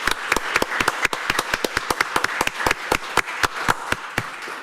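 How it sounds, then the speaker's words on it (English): Attendees at a county supervisors' meeting clap for a newly approved member: a small group of hands producing sharp, distinct claps in a quick, fairly even rhythm, close and clear, lasting a few seconds. "I'd like to give a round of applause for our newest member"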